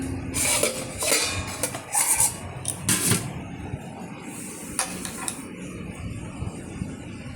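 A plate of rice being covered, with a series of sharp clattering knocks and scrapes of dish on dish over a steady background murmur, several clustered bursts then quieter rustling.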